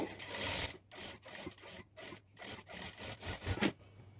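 Sewing machine running a kinnari stitch on the lining of a patchwork blouse, in short bursts of rapid whirring separated by brief pauses, close and moderately quiet.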